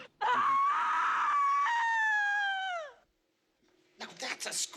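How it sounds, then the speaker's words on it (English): A long, loud, piercing scream for a horror movie sound mix, held steady for about three seconds before trailing off, followed by brief talking. "Now that's a scream!"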